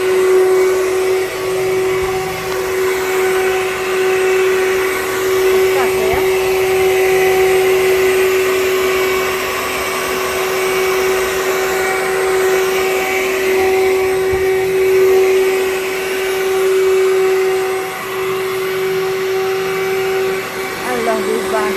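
A vacuum cleaner runs steadily during house cleaning, a loud constant whine with a strong steady hum that barely changes over twenty seconds, close by and alone.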